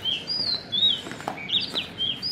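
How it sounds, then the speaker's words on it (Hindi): Small birds chirp and sing near a village at sunset, with short bright tweets repeating in quick, uneven bursts that stand clear and fairly close against a quiet evening background. "कितनी अच्छी आवाज हो रही ना चिड़ियों की"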